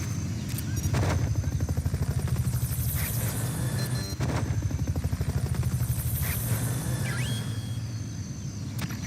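Fulton recovery helicopter in Metal Gear Solid Peace Walker, heard as a steady rotor chop with rhythmic thumping, fairly close and loud, with a few sharp bursts of other game sounds over it.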